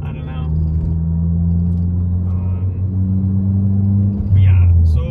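A Volkswagen Mk7 GTI with an ECS muffler delete drones on an evening drive, its engine and exhaust a loud, steady low rumble that swells slightly near the end.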